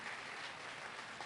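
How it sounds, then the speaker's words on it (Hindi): Gathered devotees at a Jain Siddhitap celebration in Khachrod clap together in a faint, continuous patter of applause heard from a distance, with no talking. "तालियां बजाने का सबको मेरा आह्वान है"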